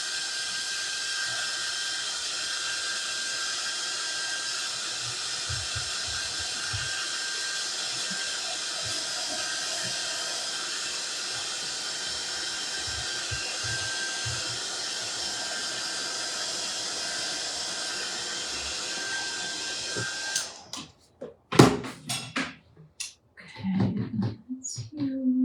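A hair dryer dries paint on a Dollar Tree ghost decoration, a steady loud whooshing hiss for about twenty seconds before switching off, followed by clattering and brief talk.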